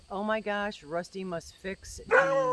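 A dog gives short yips and barks, mixed in with a woman's close, excited talking, with a sharper yelp near the end.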